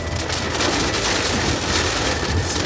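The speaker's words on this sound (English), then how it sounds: "Y'all hear the rain?" Rain pouring down outside during a heavy downpour, a dense steady hiss of drops on surfaces, close and constant throughout with no voices.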